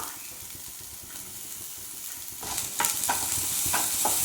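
Chopped ginger, garlic and green chili sizzle steadily in a pan, then a spoon scrapes and stirs with several distinct clinks and scrapes, the frying hiss growing louder as the stirring begins.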